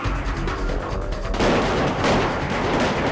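Gunfire exchange at an embassy during a Tet Offensive reenactment, heard as a loud, dense wash of shots and booms that swells sharply midway and stays intense to the end.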